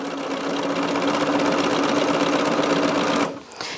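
A sewing machine stitching fabric: a loud, fast, continuous rattling hum that runs steadily, then cuts off abruptly just before the end.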